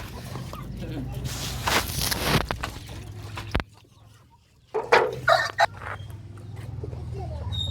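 A brown hen clucks in short, scattered bursts close by, mixed with rustling and handling noise, a brief lull midway, and faint voices in the background.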